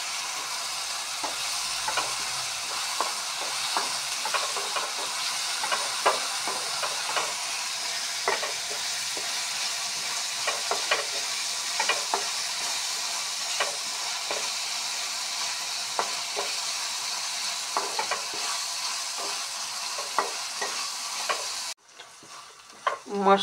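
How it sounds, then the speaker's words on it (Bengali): Onion and spices fry in a pan for a katla fish stuffing for pointed gourd, a constant close sizzle broken by repeated spatula scrapes and stirring clinks, with no talking. "মশলার পেঁয়াজ সব মিলিয়ে ভাজা হয়ে এসেছে।"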